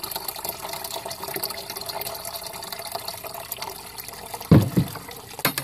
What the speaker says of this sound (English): we're going to take and strain the pulp into another bucket.